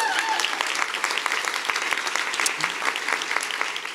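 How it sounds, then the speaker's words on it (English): Sustained audience applause fills the room at a morning idea-sharing event as the final speaker is introduced, a dense steady patter of many hands clapping with a few sharper claps standing out. "Round of applause."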